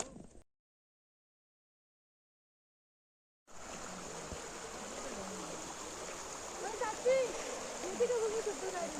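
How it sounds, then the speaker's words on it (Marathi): River water at a waterfall bathing spot near Trimbakeshwar rushes steadily and fairly loud after a few seconds of near silence, with voices faintly mixed in. "आता इथे नदी"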